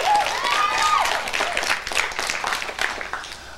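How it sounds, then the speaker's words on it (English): Studio audience applause in a 1987 campus quiz TV show, a dense burst of clapping that begins under a brief voice, then thins and fades over a few seconds. "A big round of applause for them."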